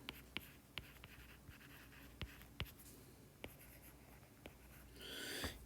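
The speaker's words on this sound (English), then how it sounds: "Just draw it out here, I guess." Someone draws on a board during a physics lesson on gravitational potential energy: sharp, scattered taps and short scratchy strokes come at irregular intervals, close and clear, ending with a longer brushing swish. There is no talking.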